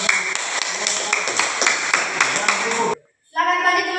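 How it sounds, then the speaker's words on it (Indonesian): Group of students in a classroom clapping hands, brisk rhythmic claps for about three seconds, then a sudden cut to silence followed by a bright tonal sound. "kita berikan tepuk tangan"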